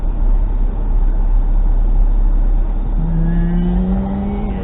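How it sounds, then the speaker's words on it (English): Road traffic in the New Forest, Hampshire, heard from inside a car: a steady, loud engine drone and tyre roar, with a rising engine tone near the end as the vehicle accelerates. "Okay, bit of traffic"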